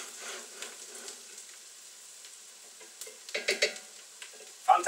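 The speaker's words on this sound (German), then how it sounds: "Die Zwiebeln sind immer noch hier am Schwubbeln." Onions in a pan for Argentine beef goulash give off a faint, low sizzle, with a few light stirring scrapes and utensil clinks.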